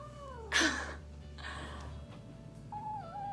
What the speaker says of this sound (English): My cat's name is Kiwi.